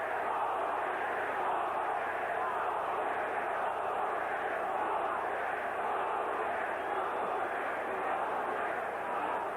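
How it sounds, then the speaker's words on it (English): Steady roar of an arena crowd at a 1981 heavyweight boxing match, Larry Holmes versus Renaldo Snipes, loud and continuous throughout with no pauses. "You've heard the crowd"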